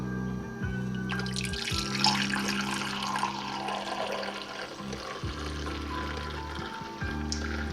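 Coffee being poured into a small cup, a steady liquid trickle with gurgling and splashing that runs for several seconds. It stays fairly quiet and close, with a few short breaks and no talking.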